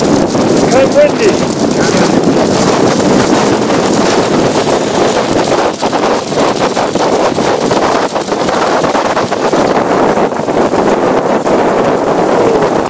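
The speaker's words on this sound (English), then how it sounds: "Kind of windy." Strong wind on Mustagh Ata buffets the microphone continuously, a loud roaring rush with gusty fluctuations throughout.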